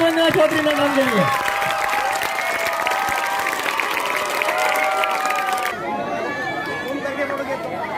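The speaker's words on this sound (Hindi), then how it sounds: "जोरदार तालियां वंदना चौधरी मैडम के लिए" Lively applause from students and staff at a government senior secondary school's annual function, clapping for a teacher, mixed with chatter, cheering voices and crowd bustle, then thinning as the talking continues.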